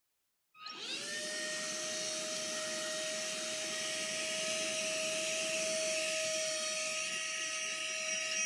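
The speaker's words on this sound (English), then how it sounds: "Get our handy dandy shop vac." A shop vac switches on and runs steadily at close range, a loud, continuous whining roar with a high tonal hum that holds through to the end.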